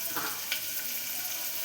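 Chopped onion sizzles in hot oil in a home kitchen, a steady close crackling hiss with a faint stirring scrape, no talk.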